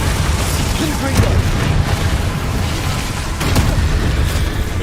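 Confringo explosive spell cast in Hogwarts Legacy on PS5, heard as a dense, loud rumble of game audio with repeated booms and bursts running throughout.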